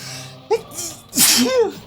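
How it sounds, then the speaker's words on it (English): A single loud sneeze with a short breathy buildup and an explosive burst, close up, followed by a brief vocal trailing sound. "I needed to sneeze."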